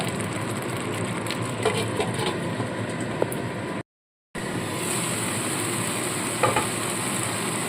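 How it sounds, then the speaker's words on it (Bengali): Spice paste frying in a covered pan for a tangra fish curry, with a continuous close, hissing sizzle and occasional soft stirring clinks, interrupted by a brief silent gap. "আমি মশলাটাকে কষিয়ে নেব"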